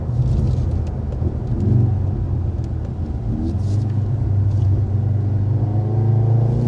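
Four-cylinder engine of a 2023 Mercedes C43 AMG rumbling steadily from inside the cabin, a deep continuous drone that swells and settles as the car pulls through gears, with no talking.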